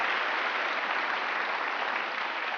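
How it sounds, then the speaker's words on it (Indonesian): Studio audience applause for Gojek founder Nadiem Makarim on an Indonesian evening talk show, a steady, dense wash of clapping that holds evenly throughout with no voices over it. "Kita kasih tepuk tangan dong untuk Nadiem."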